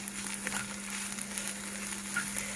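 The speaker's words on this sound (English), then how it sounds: "you smoothly stir it" Mushrooms fry in butter in a pan while being stirred gently, a soft, even sizzle close by with faint scraping under a steady low hum.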